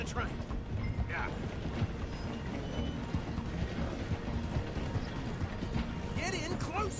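Horse hooves clip-clopping in a steady rhythm while riding alongside a slowing train in Red Dead Redemption 2, with continuous rumbling train noise underneath and voices talking over it.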